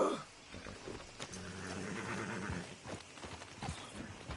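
Horse in a PS4 video game neighs and whinnies, with game hooves clip-clopping around it, moderately loud and close over a steady game ambience, no talk.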